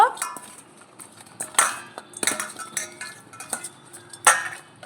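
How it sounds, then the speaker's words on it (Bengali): Salt and turmeric being rubbed into fish in a bowl, heard as scattered clinks and scrapes of utensils against the bowl with soft handling noises, close and moderately loud, no talk. "এখন নুন হলুদটা ভালো করে মাছে মাখিয়ে নেব।"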